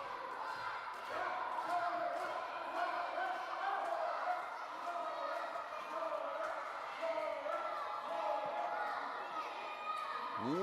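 A large crowd roars and cheers continuously from a distance at a youth football match after a goal, a broad sustained wash of voices with scattered claps and shouts.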